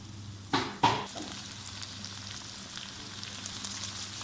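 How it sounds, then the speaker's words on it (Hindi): Onions and green chillies dropped into hot oil in a pan, two sharp sizzling bursts followed by a steady low frying hiss under faint background hum. "अब इसमें हम प्याज डाल लेते हैं और मिर्च साथ डाल लेते हैं"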